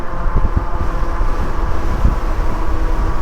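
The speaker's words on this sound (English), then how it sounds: "Very, very windy out here. Really windy." Steady roaring wind buffets the microphone during an e-bike ride, a dense low rumble with gusty thumps, loud and continuous with no voices.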